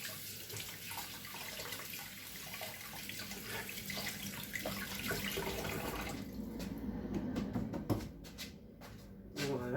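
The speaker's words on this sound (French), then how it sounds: "Je vais juste me laver les mains." Hands are washed under a running kitchen tap, with water gushing steadily into the sink. The flow is interrupted by clatters and splashes in the last few seconds.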